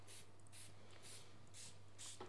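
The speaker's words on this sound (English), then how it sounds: "So this one gives a really nice fine spray." Five quick, soft hisses of a spray bottle misting, evenly spaced, close and faint over a low background hum.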